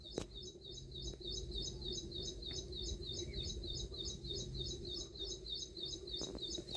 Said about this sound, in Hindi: चिड़ियों का म्यूज़िक सुनो जी आप